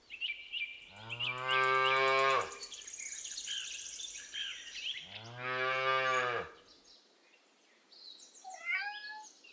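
Two long, drawn-out moos from a calf, each lasting about one and a half seconds with a gap between them, loud and close, with faint chirping heard in the background.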